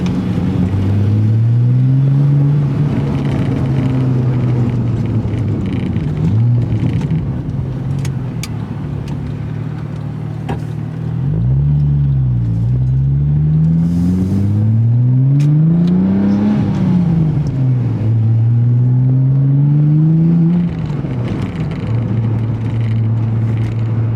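Porsche 996 Turbo X50 with a manual gearbox accelerating along a road, its loud engine note rising through the revs, dropping at gear changes and climbing again under steady road rumble.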